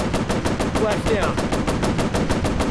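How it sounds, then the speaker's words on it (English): Rapid bursts of aircraft machine-gun fire in a WarPlanes air-combat game, a dense, evenly spaced rattle running continuously and loudly throughout. "Machine gun's overheated."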